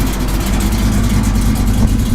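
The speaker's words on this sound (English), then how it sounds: "Car sounds great." A 1969 Chevrolet Camaro engine runs steadily nearby, a loud continuous low rumble holding an even pitch throughout with no talk over it.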